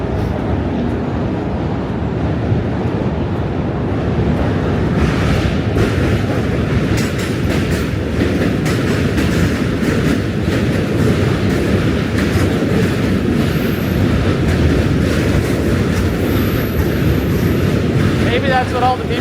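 Subway train rolling along elevated tracks in New York City, a steady loud rumble and rattle lasting the whole stretch, up close with street ambience around it.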